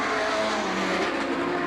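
Race cars at Star Speedway roar past at close range in a loud, dense, continuous engine wash with faint tire squeal, no voices over it.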